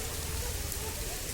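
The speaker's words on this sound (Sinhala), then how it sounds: "දැනුත් පොඩියට පොද වැස්සක් යනවා" Light drizzle falling outdoors on the University of Peradeniya campus, a faint, steady soft hiss of rain with a low background rumble throughout.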